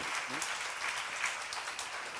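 An audience at a church seminar claps in a burst of applause that swells and fades across the moment, with a voice briefly audible over the clapping.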